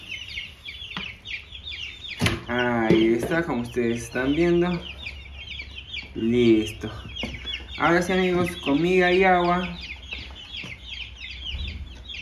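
Chickens cluck and chatter around a feeder in repeated close bursts while someone speaks Spanish over and between them.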